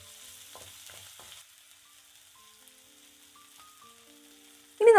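Chopped ginger and green chillies sizzle softly in a pan while brown bread upma is being made; the frying is faint for a moment, then fades nearly to silence before a short, loud sound at the very end.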